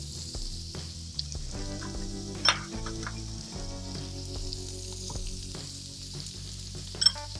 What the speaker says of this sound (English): start cooking that butter with the steak